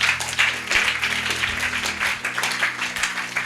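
A crowd at a church Bible study claps together in steady, dense applause that fills the short moment without a break.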